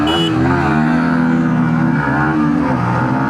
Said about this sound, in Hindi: अजय भाई के साथ MT15 और ड्यूक 160 की ड्रैग रेस करके देखते हैं।